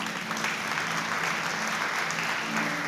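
Steady, dense applause from a church congregation during a sermon, clapping for the Lord, filling the whole stretch at an even loudness with no voices over it.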